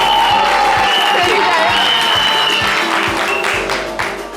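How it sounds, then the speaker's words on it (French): A studio audience applauds loudly with cheering and whoops, the clapping dense and sustained before it gradually fades toward the end, mixed with crowd voices. "On va l'applaudir très très fort"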